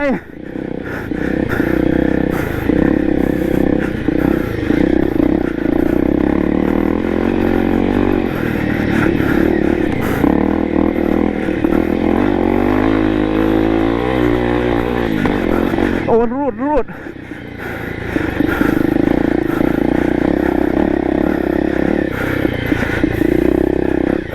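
A Honda CRF250 enduro motorcycle on a dirt trail, its engine droning loudly and steadily with throttle swells and a brief drop near the end before picking up again, someone talking over it.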